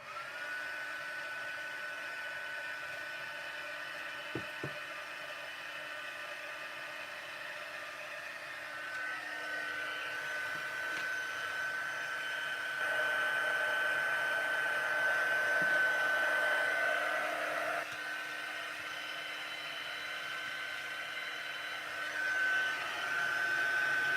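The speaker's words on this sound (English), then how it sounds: "I'm going to heat up the gun again, the heat gun" A heat gun blows hot air over a stamped craft project, a continuous steady whirring hiss that holds for the whole stretch and swells slightly louder midway before settling back, with no talking.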